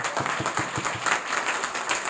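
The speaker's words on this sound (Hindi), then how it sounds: "जोरदार तालियां होनी चाहिए सबके लिए।" An audience claps at a company gathering after a top achiever is announced as having bought a Jaguar car, a steady crowd applause filling the short clip with a dense wash of overlapping claps.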